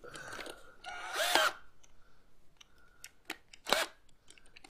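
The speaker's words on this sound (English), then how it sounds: "we're just simply going to turn the drill on" A Black & Decker power drill, fitted with two nuts and a bolt for knife sharpening, whirs in short close bursts, with a louder grinding pass near the middle and another near the end, and no talking.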